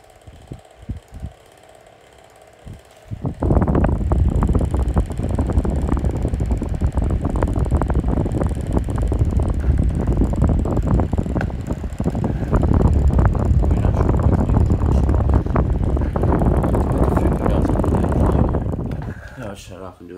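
An SMC 6-inch desk fan runs loud and close after a quieter start, a steady whooshing blade roar with a fine rattling texture that holds until it cuts out at the end.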